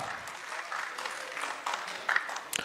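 Audience applause at a Punjabi literary festival in Lyallpur, a steady patter of clapping from a crowd that swells briefly near the end.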